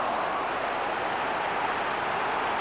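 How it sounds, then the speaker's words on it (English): Football crowd at a Sunderland v Charlton Athletic match applauding a 60-yard run with the ball, a dense steady wash of clapping and crowd noise heard at a distance, brief and unbroken. "the crowd are responding to that from Kilbane"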